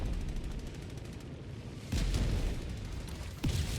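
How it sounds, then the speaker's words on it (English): Orbital strike stratagem explosions in Helldivers 2 land as deep, rumbling blasts amid a constant din of gunfire and combat noise, with two heavier impacts standing out partway through. "That orbital should do it."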